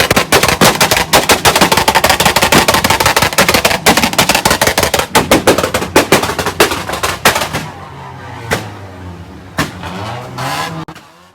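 A tuned Honda Civic with a banger setup fires a rapid, loud volley of sharp exhaust pops at an auto show, the crackling thinning out into scattered bangs over a rumbling idle.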